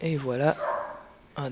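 A pet dog in a house barks loudly and close by, two sharp barks with a pause between them, while a person speaks briefly at the start.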